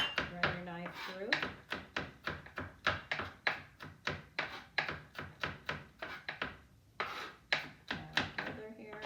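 Knife chopping rapidly on a cutting board while mincing garlic, a fast regular series of sharp taps and thunks close by, with a short pause before the rhythm picks up again.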